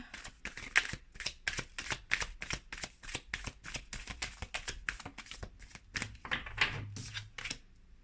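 Tarot cards being shuffled up close in a quiet room, a rapid run of crisp riffling flicks that continues almost without pause.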